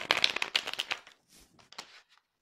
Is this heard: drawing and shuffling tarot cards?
yes